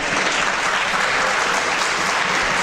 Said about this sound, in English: More Democrats clap.